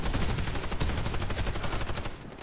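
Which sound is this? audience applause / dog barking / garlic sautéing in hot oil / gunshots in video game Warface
gunshots in video game Warface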